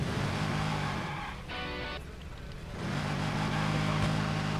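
A car in Watch Dogs, its engine running at a steady moderate level, briefly dipping before rising again, heard alone without talk.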